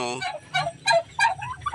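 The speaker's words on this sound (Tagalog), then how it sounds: "yung napisang sisyo ng pabo" Several young turkeys and other fowl call nearby in a quick run of chirping, trilling and gobbling notes with brief pauses between.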